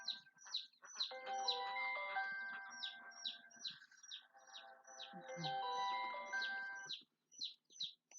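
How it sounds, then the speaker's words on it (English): Pet birds at home chirp in quick, repeated high tweets throughout, close and clear, while steady tonal music or chimes play underneath for most of the stretch. "That's my birds."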